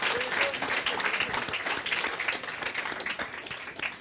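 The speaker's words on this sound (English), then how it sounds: "So give yourselves a round of applause." Audience at a ukulele-making event giving itself a round of applause, dense sustained clapping from many hands filling the space at a steady loud level, with some crowd murmur.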